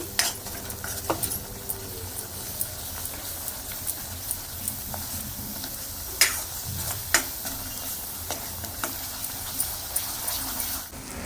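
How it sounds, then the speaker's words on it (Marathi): Spice masala for a prawn curry sizzles in a pan with red chilli powder, Byadgi red chilli powder and garam masala, under steady frying hiss and repeated spoon scrapes and clicks as it is stirred, with no talk. "आता हे चांगलं परतून घ्यायचं"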